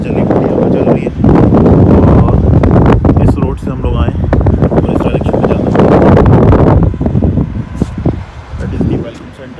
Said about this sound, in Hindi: हवा भी अच्छी चल रही है, हवा चल रही है।